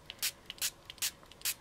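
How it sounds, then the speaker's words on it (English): Four quick bursts of Smooch vanilla shimmer spray from a pump bottle misted onto a craft surface, evenly spaced and close, each followed by faint handling noise in a quiet room. "I'm going to take this beautiful little smooch vanilla shimmer that came in the kit, and I'm just going to spray all of those areas"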